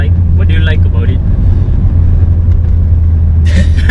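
A Mitsubishi Evo 9 engine runs with a loud, steady low rumble that holds throughout, with a couple of brief sharper bursts on top.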